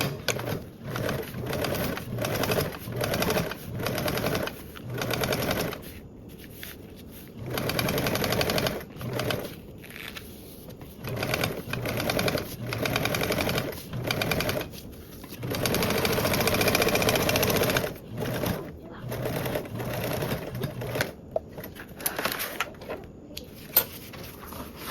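A sewing machine top-stitches a duffle bag panel at a 1/8 inch margin, running in repeated bursts with short pauses and no voices.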